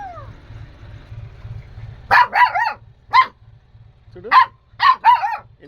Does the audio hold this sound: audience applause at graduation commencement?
no